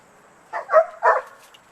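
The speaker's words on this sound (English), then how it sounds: "Well, Brad, that was her bark just for you." A dog gives two quick, close barks, sharp and fairly loud, in an otherwise quiet space.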